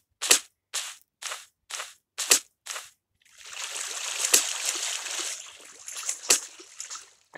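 Shooting in Minecraft: six sharp, evenly spaced shots ring out alone, then a steady hissing wash begins, with a few louder shots on top of it.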